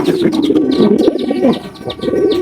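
Pigeons coo continuously at a farm holding yellow tail-marked pigeons, the low throaty rolling calls overlapping close and loud, with faint higher chirps above them.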